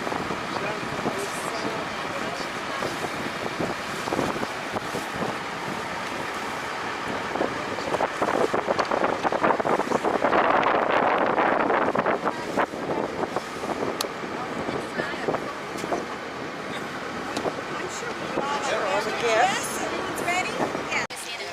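A sailboat named as a charter vessel backs out of a small protected harbor area, with steady wind buffeting the microphone and a low boat drone throughout, while people chat in the background.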